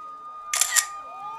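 Two quick camera shutter clicks snap close together during a group photo shoot with a K-pop boy band, crisp and brief against a quiet room.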